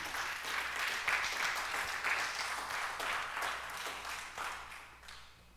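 A church congregation at a Spanish-language Sunday service breaks into sustained applause, a thick continuous clapping that swells and then tapers off toward the end.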